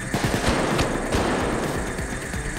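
Sustained automatic gunfire in Payday 2, a dense rattling stream of shots close and loud, running without pause and with no talking over it.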